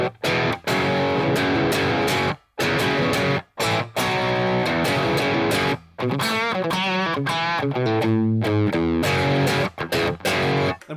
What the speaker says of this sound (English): What a tube screamer overdrive does is this.